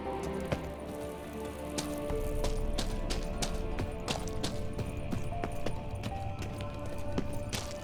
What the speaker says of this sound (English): Kelpie. Another horse.